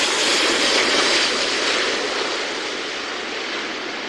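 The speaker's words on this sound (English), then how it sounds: "We have an Emirates heavily laden 380 gracefully pulling into the air" A heavily laden Emirates Airbus A380 climbs away after takeoff with a broad, roaring jet rush that stays loud and slowly fades over a few seconds.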